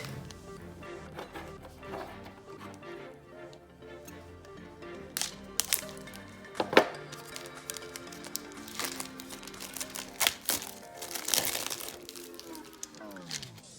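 Plastic packaging holding craft mirror sheets is cut open with scissors, giving scattered crinkles, snips and sharp crackles up close, irregular and fairly quiet, with a rising scrape near the end.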